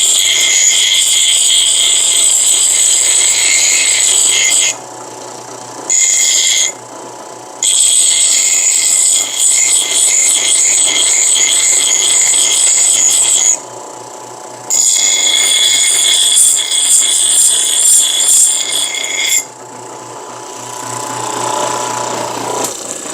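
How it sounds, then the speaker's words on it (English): A bench grinder grinds paint off a piece of steel, a loud steady whine in several long passes separated by short pauses, with the motor humming and spinning down at the end. "I'm actually using a grinding, like a bench grinder, to clean off the paint."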